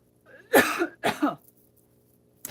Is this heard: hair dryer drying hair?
no